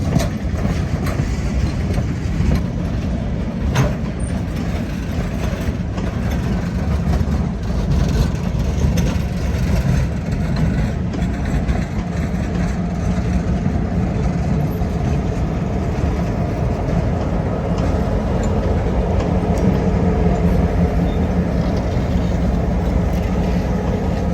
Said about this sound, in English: The train shoves back to collect a few empty hoppers.